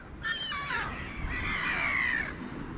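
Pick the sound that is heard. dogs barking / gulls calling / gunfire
gulls calling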